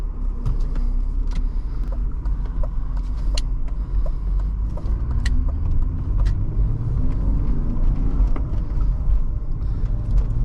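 A 1997 BMW 320i M-Sport Touring car driving, its engine giving a steady, close rumble with a low drone throughout, accompanied by scattered clicks and light interior rattles.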